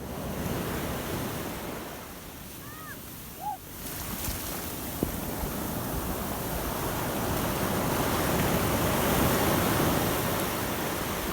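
Ocean surf rolls and breaks on a beach at Hatteras, a broad continuous wash of waves and wind, swelling louder toward the end, with a few faint high bird calls early on.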